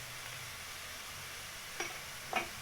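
Chicken cooking in a pan with a steady low sizzle as cumin is stirred in, two soft scraping stirs near the end.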